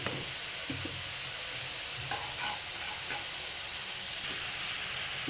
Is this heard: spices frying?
yes